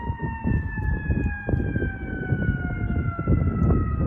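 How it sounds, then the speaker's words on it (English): Sirens wail in the distance, their tones sliding slowly downward over a low rumble of traffic or wind, with no voices. "I started hearing these sirens in the background"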